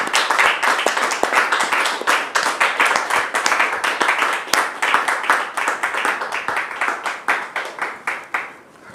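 Studio audience applauding to welcome a guest named David onto a French talk show stage, a dense run of sharp claps that thins and fades toward the end, with no voices over it.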